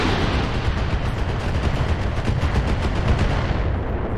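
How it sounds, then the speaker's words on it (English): A dense, continuous roar of missile launches and impacts aimed at an enemy mech in the RogueTech battle game, loud and rumbling without pause. "Just gonna tag him with missiles."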